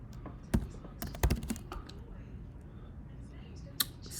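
Command typed on a computer keyboard in a terminal: a few scattered key clicks, then a quick cluster of taps and a final single click, close and fairly soft, with no talk over them.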